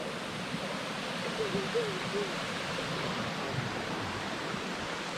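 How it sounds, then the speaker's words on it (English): Waterfall along the Rose River Trail in a forested hiking area, heard as a steady, broad rush of falling water that fills the whole clip, with faint voices briefly audible over it. "Look at this beautiful waterfall."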